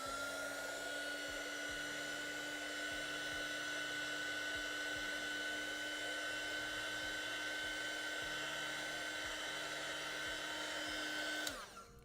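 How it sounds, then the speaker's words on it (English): A hair dryer runs steadily at close range for about eleven seconds to dry ink on a handmade card, a constant whirring blow with a tonal whine that cuts off abruptly at the end. "I'm gonna dry it really quick,"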